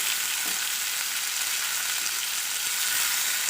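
Tomatoes frying with softened onions in a pan, a steady bright sizzle that holds evenly throughout, close and loud with no voices.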